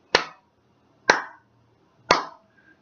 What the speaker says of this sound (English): 3 slow claps.